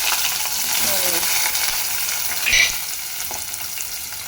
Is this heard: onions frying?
yes